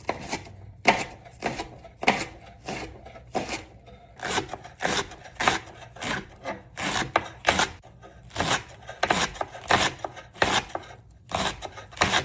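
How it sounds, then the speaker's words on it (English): A knife thinly slices leeks on a cutting board. Steady, crisp chopping strokes repeat in a fairly even rhythm, close and clear, with no talking. "Then I'm going to thinly slice my leeks."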